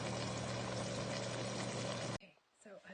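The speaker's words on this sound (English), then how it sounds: "And now I'm going to add the paste and a little bit of water." Water is poured into tomato sauce in a pot as a steady, fairly faint rushing pour that cuts off abruptly, leaving quiet kitchen noise behind.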